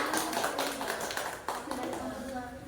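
A small group of students claps briefly for group 2 during a class presentation, a close, quick burst of hand claps mixed with voices.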